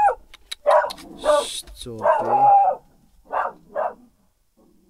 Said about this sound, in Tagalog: kung mapapansin nyo maingay yung mga aso